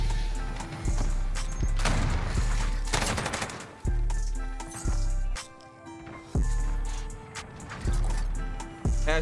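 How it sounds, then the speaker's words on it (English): Bursts of rapid automatic fire from the Encryption MK9 light machine gun in Modern Warfare ring out loud and close, several long strings of shots broken by short pauses, with heavy low thumps under each burst. "I'm rocking with the new LMG right now, chat."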